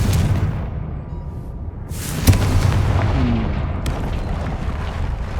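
Confringo fire spell from Hogwarts Legacy erupting in a sharp, loud crack near the middle, followed by a deep, rumbling boom and lingering low roar amid game ambience.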